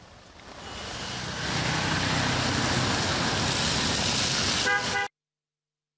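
Rain falls steadily in a city street, giving a continuous broadband hiss that swells after the first second. A car horn toots near the end, just before the sound cuts off abruptly.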